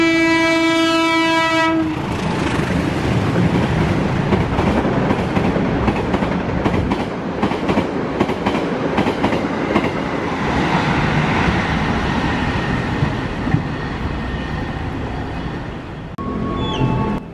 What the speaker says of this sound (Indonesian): itu kereta api Dharma Wangsa 165 seperti menurunkan kecepatan